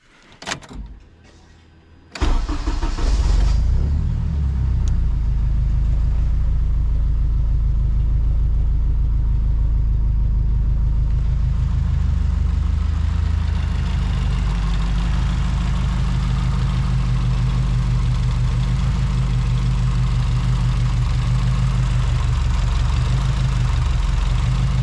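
A car with a newly installed turbo and E85 fuel with 1700 cc injectors cold-starts after a brief crank, then settles into a loud, steady, rumbling idle that runs on close-up with no talking.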